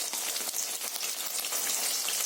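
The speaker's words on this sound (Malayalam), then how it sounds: "അത് നന്നായിട്ട് തിളച്ച ശേഷം സോയ ചങ്ക്സ് മൂപ്പിച്ചെടുക്കാം" Soya chunks fry in hot Gold Winner oil in a Kerala kitchen, giving a dense, even crackling sizzle that carries on steadily with no voices.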